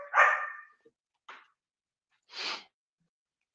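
A dog barks in short separate bursts: one loud, drawn-out bark, then a quieter bark and another mid-volume bark with silent gaps between them, close by and with no talk over it.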